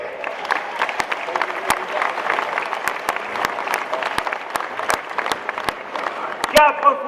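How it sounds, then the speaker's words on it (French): A crowd at a gymnasium inauguration applauds a double Olympic judo champion, with steady massed clapping and a few sharp, louder individual claps standing out from the wash. "Vous pouvez l'applaudir."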